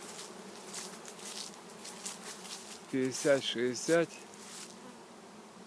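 Honey bees swarm around honeycomb frames set out to dry at an apiary after honey extraction, their steady, close buzzing running throughout while someone speaks briefly midway.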